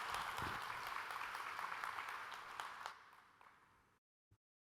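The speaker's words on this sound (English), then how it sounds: "Another round of applause" General assembly audience applause, a broad wash of clapping with a few sharper individual claps, fading gradually over a few seconds and ending in near silence broken by one faint tap.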